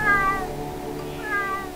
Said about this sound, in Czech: Je, kočka, a přátelská.